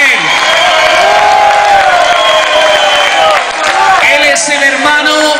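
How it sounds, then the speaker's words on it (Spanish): Loud live audience applause and cheering for a guest artist at an orchestra show, sustained clapping and whoops filling the whole stretch, with music and voices mixed in. "Un fuerte aplauso para él."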